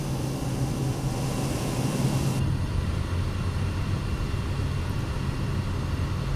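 Pilatus PC-6 Porter turboprop engine in Microsoft Flight Simulator 2024, a loud steady cockpit drone with a constant low rumble and a whine that drops away partway through.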